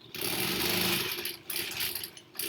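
A sewing machine stitching foundation paper-pieced quilt blocks, running in close whirring bursts with brief pauses between runs, steady and mechanical with no voices over it.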